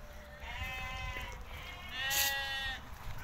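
A flock of 38 Timahdite sheep offered for sale bleats nearby, several wavering calls overlapping in quick succession at moderate loudness.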